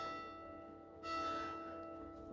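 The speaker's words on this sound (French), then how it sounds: "elle bug un peu là la cloche" A glitching bell sound rings out as a sustained metallic tone that suddenly swells in brightness halfway through, then decays back into a steady hum, alone and moderately loud.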